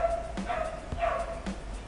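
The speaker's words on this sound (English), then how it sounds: "There's a dog." A dog gives a few short, fairly soft barks and yips at moderate distance over a steady background hum.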